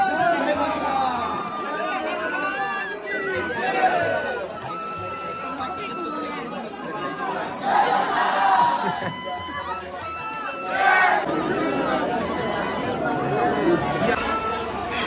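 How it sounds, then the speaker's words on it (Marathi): A dense crowd chattering at the Jejuri temple on a busy Saturday, overlapping voices and bustle swelling and easing, with nearby people talking close to the microphone over the babble. "एवढी गर्दी शनिवार आहे म्हणून वाटते एवढी गर्दी आहे"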